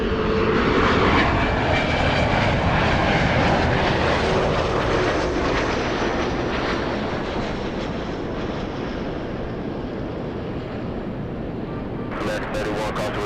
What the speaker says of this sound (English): We have a little CRJ landing.